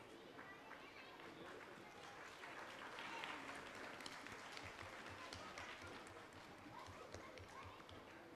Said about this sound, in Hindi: अतिथि के सम्मान में तालियां जब बजती है